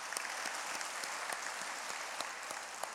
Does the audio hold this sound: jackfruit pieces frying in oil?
no